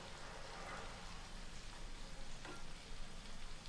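Paneer and vegetables frying on a tawa over a low flame give off a soft, steady sizzle, faint and continuous, with no talking.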